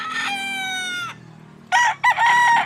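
A rooster of a white-hackled gamefowl line crows loudly and close, one long drawn-out call followed by shorter broken crowing bursts.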